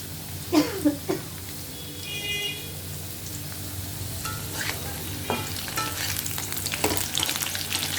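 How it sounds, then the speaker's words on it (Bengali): Cumin seeds and potatoes fry in hot oil with a soft, continuous sizzle, while a spoon stirs and scrapes the pan in occasional clinks, heard close up. "একটু আলুগুলো লাল লাল হোক, লাল লাল করে ভেজে নেব।"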